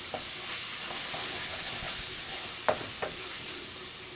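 Apple pie filling of canned fruit and juice stirred together in a bowl, a steady soft wet scraping with a few sharper clicks of the spoon against the side, close and alone.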